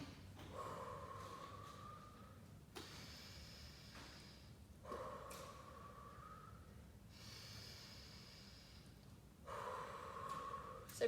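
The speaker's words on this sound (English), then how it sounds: "we're going to take 3 deep breaths." Three slow, deep breaths after a bodyweight workout, each a long audible inhale through the nose followed by a gentle exhale, close and quiet with pauses between.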